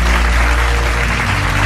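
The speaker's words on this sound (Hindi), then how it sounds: "एक बार इस आर्टिस्ट के लिए आप सबकी तरफ से जोरदार तालियां।" Loud, dense applause from a gala-night audience for a sand artist, a continuous wash of clapping hands filling the short stretch.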